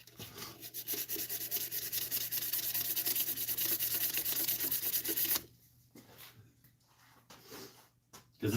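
A turned pen spins on a lathe while 240-grit sandpaper is held against it, making a close, continuous abrasive hiss over a low motor hum for about five seconds. After that it drops to quieter, sparse handling noises.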